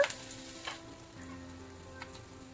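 Curry leaves and spices frying in a hot pan for egg masala, sizzling loudly at first with sharp crackles, then settling into a steady softer sizzle with occasional pops.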